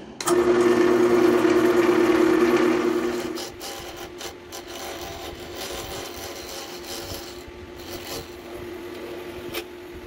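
A carbide tool cuts brittle epoxy resin plywood spinning on a wood lathe, a loud steady scraping whir for about three seconds before dropping to a quieter lathe hum, with no talking.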